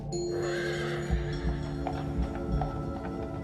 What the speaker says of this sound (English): I was not expecting horse and buggy.